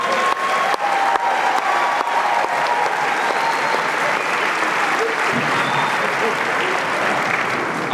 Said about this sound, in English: How about a nice round of applause for the 2019 graduates of Matawan Aberdeen